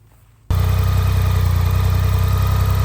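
A restored motorcycle's engine catches at half a second and runs steadily at a fast, rough idle with the choke on, loud and close, with no talk over it.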